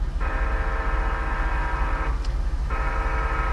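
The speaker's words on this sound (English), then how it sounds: "what you are witnessing now is the Sounder commuter train, one of the fastest trains in the Pacific Northwest" A Sounder commuter train in the Pacific Northwest rumbles past slowly and close, its long horn blaring in two sustained blasts separated by a brief gap over a continuous low roll.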